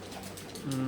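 A pigeon coos softly on a city balcony in Istanbul, a short low throaty call rising at the end, quiet and close with faint background hum.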